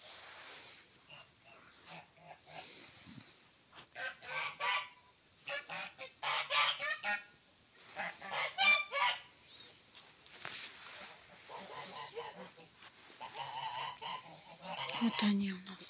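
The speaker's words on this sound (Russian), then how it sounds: "Гуси — это самая умная птица." Village geese honking in irregular bursts, moderately close, with crickets chirping softly in the background.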